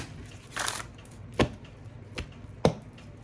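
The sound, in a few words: shuffling a deck of tarot cards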